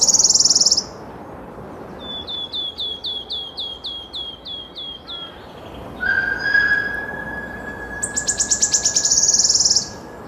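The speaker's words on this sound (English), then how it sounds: "And I always think with the wood warbler that it's a sign not just of spring, but the fact that summer isn't far away." A wood warbler sings in ancient Welsh woodland, giving an accelerating series of sharp ticking notes that runs into a shivering trill, repeated twice, clear and fairly close, with a faint whistled note from another bird between.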